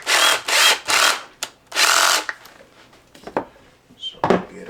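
Electric drill or screwdriver driving a screw back into a Peg Perego John Deere Gator ride-on toy during motor and gearbox replacement, several loud close whirring bursts followed by quieter handling clicks and rattles.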